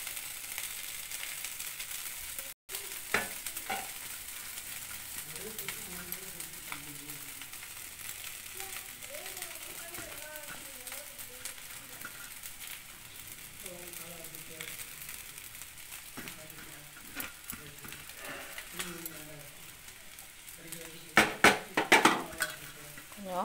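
Masala frying on a low flame for a tamarind-free poricha kuzhambu gives a soft, steady sizzle with intermittent spoon scrapes and clinks against the pan, and sharper clattering near the end.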